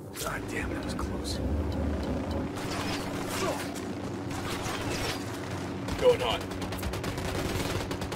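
Sniper and automatic gunfire in the Ghost Recon Wildlands video game, repeated shots crackling over a steady rumble of vehicle engines, with one sharper crack near the end and voices talking throughout.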